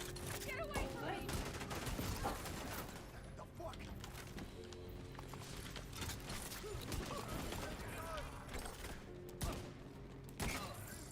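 Sustained gunfire and weapon clatter in the Division 2 on PC, dense and continuous throughout with mechanical clicks, while a voice talks over it now and then.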